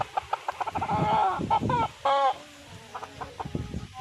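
A four-year-old pure Tasmanian fighting rooster clucks and murmurs close by in a series of short, uneven calls, with brief louder bursts and quieter pauses between them.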